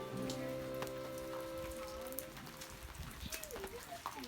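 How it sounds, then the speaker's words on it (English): Rain falls steadily outdoors over a Weber barbecue cooking pizza at a lakeside camp, a soft continuous patter with scattered drops, while faint tonal background sounds and brief voices come through underneath. "So it's raining on and off, and we're still cooking pizza"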